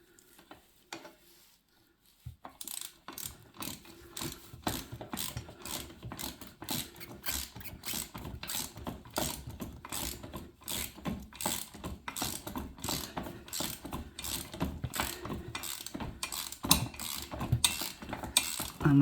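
Ratchet spanner tightening the bolt of a Decathlon double-legged bike stand on a Fafrees F20 Max e-bike: a brief pause, then a steady train of quick, close clicking strokes that runs to the end.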